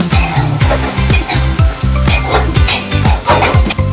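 Kachori filling of tur beans and garlic sizzles and fries in a pan, loud and close, with rhythmic scraping strokes of a spatula stirring through it about twice a second.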